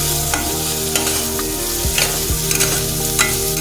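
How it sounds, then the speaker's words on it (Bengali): Tomatoes and onions with salt and turmeric are stirred in a hot pan for a spicy ghugni, giving a constant loud sizzle. Scraping strokes of the spoon break through it at intervals, with no voices. "হলুদ দিয়ে নাড়াচাড়া করতে থাকলাম"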